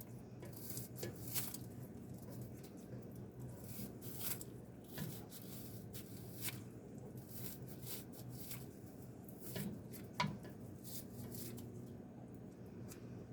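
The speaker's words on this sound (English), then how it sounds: "So I'm just going to cut this frozen spinach up in here." A utensil cuts up frozen spinach inside a pot of simmering gnocchi soup, giving faint, irregular scraping and clinking knocks against the pot over a low, steady background, with no voices.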